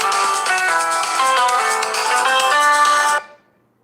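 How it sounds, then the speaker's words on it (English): An incoming call sets off a melodic phone ringtone, a bright repeating electronic tune that plays loudly for about three seconds and then cuts off abruptly, with no talking. "Incoming phone calls."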